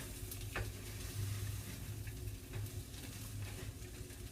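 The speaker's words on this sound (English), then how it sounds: "get those in there and stir those around" Frozen peas are stirred in a frying pan for chicken fried rice, giving a steady, quiet sizzle with soft scraping and a few brief clinks from the stirring.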